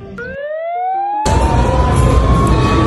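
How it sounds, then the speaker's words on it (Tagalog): Wailing ambulance siren sweeping in pitch, loud and close, with a sudden jump in volume and broadband noise partway through as it nears. "Ayun, may ambulansya na."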